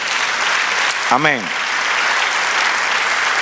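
Congregation at a church service applauding steadily throughout, with one voice briefly calling out over the clapping partway through.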